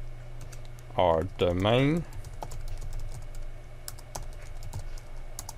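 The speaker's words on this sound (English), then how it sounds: "then we're going to type in Win10, our password" Keys clack on a computer keyboard as a password and domain are typed into Windows 10, a quick run of light, close taps after someone briefly speaks.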